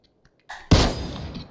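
A grenade explodes in a PS4 VR shooter game as a single sharp, loud blast that follows a brief faint lead-in, then a short decaying rumble.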